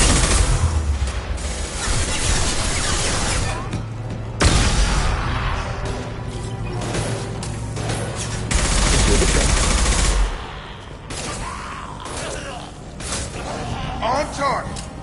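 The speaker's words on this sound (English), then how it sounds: "I'm taking some fire, but I'm okay so far." Automatic gunfire rattles almost nonstop through the Mass Effect 2 firefight, with dense bursts and booms that ease near the end as voices talk over the battle.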